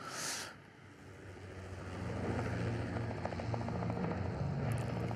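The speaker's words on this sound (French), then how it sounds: "L'hélicoptère qui arrive à Isla Nublar." A helicopter arrives at Isla Nublar in a Jurassic Park video game: a steady, fairly loud rotor and engine drone that builds after a brief high hiss at the start, with no talk.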